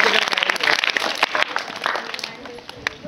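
Primary schoolchildren at a Zilla Parishad school break into a short burst of lively applause that fades after a couple of seconds, with voices mixed in.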